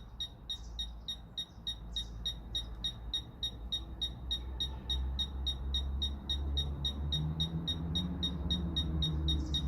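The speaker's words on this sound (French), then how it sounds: "on va voir combien il y a de bips différents, espacés de manière différente." A Fisher F-Pulse metal detector pinpointer gives rapid, evenly spaced electronic beeps that repeat steadily and close by, a high-pitched pulsing that continues throughout over faint low rumble.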